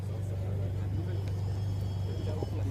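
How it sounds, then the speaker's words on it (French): A Ferrari Enzo Aperta edging into position at the Chantilly Arts & Elégance show, its engine a steady low idle rumble running close and continuous throughout. "La spéciale Aperta qui est en train de se positionner."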